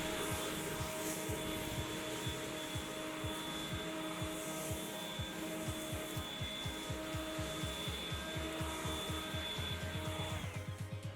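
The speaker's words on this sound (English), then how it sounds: "I hope this will give you some idea of the blower's performance" A Ryobi 40V Whisper battery leaf blower runs steadily with a smooth electric whine and airy rush. A regular rhythmic thumping runs beneath it, and the blower winds down at the end.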